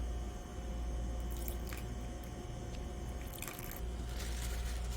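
Water is poured into thick idli batter for kuzhi paniyaram and stirred in, making soft, close squishing and dripping sounds that continue steadily with no talking.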